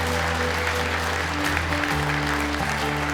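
An audience at a Busan Buddhist New Year gathering applauds the signing of an agreement to bring the World Expo to Busan. Dense, even clapping runs the whole time over a steady musical drone with shifting low tones.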